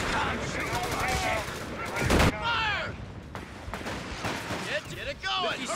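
Gunfire in the video game Company of Heroes 3 during a US forces multiplayer battle: rapid rifle and machine-gun bursts crackle continuously, mixed with shouting voices and distant booms.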